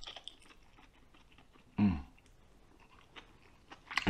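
Someone chews lamb tongue close to the mic, with quiet, soft wet chewing and one louder bite partway through, then crunchy noises at the end.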